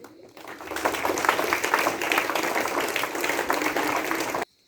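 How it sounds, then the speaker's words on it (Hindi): Students break into continuous applause at a Gandhi Jayanti school ceremony at a government inter college, a dense, even patter of many hands that holds steady and then stops abruptly. "बहुत सुंदर ताली बजाइए"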